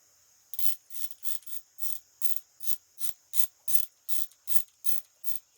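A square-bit screwdriver tightens a terminal screw on an electrical plug, giving a quiet, close series of about a dozen evenly spaced ratcheting clicks, with no talk.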